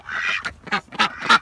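Backyard ducks quack loudly and close by in a rapid run of four raspy calls, ahead of an approaching storm.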